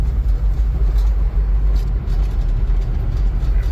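A 1978 car's engine runs steadily, a deep, loud, low rumble with slight pulsing and no speech over it.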